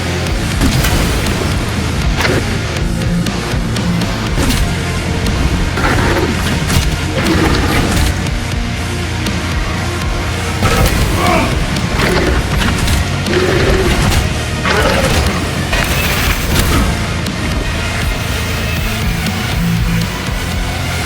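Melee parries and blocks in Space Marine 2, a sustained run of heavy clashing impacts and crashing hits over dense battle noise, loud and continuous with repeated sharp strikes throughout.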